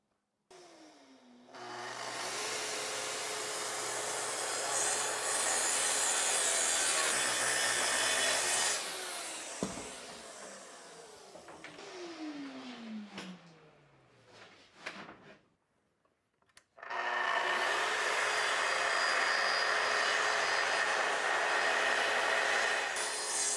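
A track saw ripping plywood with dust extraction running, giving two long loud bursts of harsh broadband saw-and-vacuum roar separated by a quieter stretch of spin-down whine, sliding and clunks.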